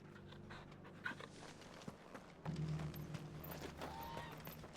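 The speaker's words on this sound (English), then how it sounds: "Let's pet the dog first." A dog in Final Fantasy 16 pants rhythmically while being petted, quick close breaths over faint game ambience and a few soft footfalls, with no talking.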